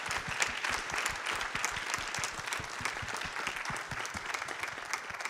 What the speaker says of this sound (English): Can we have a round of applause for our fantastic panel